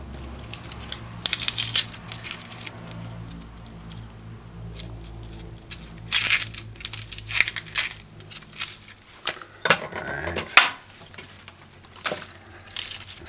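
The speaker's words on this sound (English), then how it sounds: "So peel the onion, take this layer off," Papery outer layer being peeled off an onion for a curried steamed fish dish: close, dry crinkling and crackling bursts in irregular clusters, with brief pauses between pulls and no voices.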